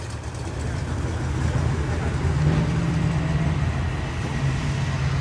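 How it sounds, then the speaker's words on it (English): A Chevrolet El Camino leaving an evening car meet at Tern Hill Hall pulls away with a deep, steady engine rumble, fairly close and continuous throughout. "There goes the big Chev."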